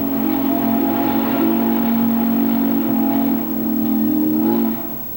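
An old steam locomotive on a short 8.5-mile railroad, the Crab Orchard & Egyptian, sounds a deep, throaty whistle held in long steady blasts, briefly dipping before a final swell that fades at the end.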